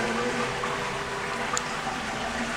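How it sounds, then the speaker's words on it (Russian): A toilet in a shopping mall restroom in Athens flushes, a continuous close rushing and gurgling of water that fills the whole short stretch at steady loudness. "Смыв."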